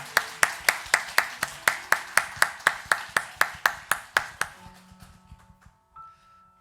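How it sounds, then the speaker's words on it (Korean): A congregation at a Sunday morning church service claps in welcome: sharp, evenly spaced unison claps at a brisk beat, about eighteen in a row, then quickly trailing off into near quiet. "우리 환영과 축복의 박수를 함께 나누시기를 원합니다."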